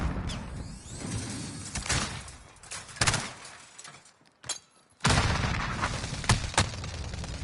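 Gunfire in Call of Duty: Modern Warfare (2019), with sharp shots and short bursts scattered through a noisy firefight, loud and close.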